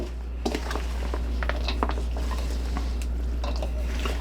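Coleslaw mix with shrimp being stirred in a bowl, giving soft, irregular scraping and clinking of a utensil against the dish, moderately close with a steady low hum underneath.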